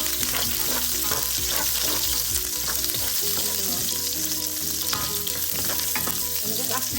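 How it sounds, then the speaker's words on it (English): Onions stir-fried in a pan: a dense, steady close-up sizzle with repeated scraping stirs, over a continuous tonal background layer. "We have to stir fry the onions."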